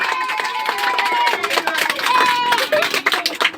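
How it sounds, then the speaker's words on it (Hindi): Children clapping loudly together in a classroom during a subtraction oral test, a dense burst of applause that fades into scattered claps near the end, close and lively. "अपने लिए एक जोरदार ताली बजा लीजिए।"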